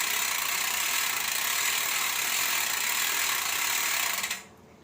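Speedone Sniper and Weapon Ambush bicycle freewheel hubs coasting, a steady, dense buzz of rapid ratchet clicks held at even loudness that cuts off abruptly near the end, with no talking.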